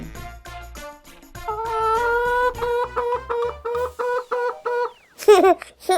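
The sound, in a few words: hen clucking, cartoon sound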